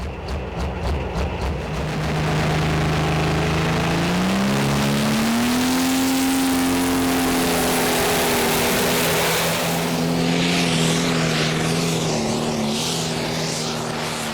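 John Deere pulling tractor roaring loudly through a full pull in an arena at a Danish championship event, a sustained engine howl that climbs in pitch and holds steady, with faint crowd noise behind.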